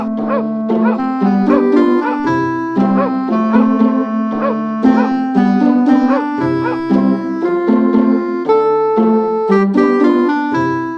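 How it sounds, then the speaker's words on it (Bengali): Dogs bark repeatedly in a fast, musical rhythm, the yips clear and close over about eleven seconds, like a staged sound effect. "কুকুরগুলো তাকে দেখে"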